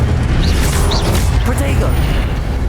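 Spell casts including Incendio in Hogwarts Legacy whoosh and burst in quick succession, loud and close over a rumbling combat backdrop, with swept magical tones cutting through.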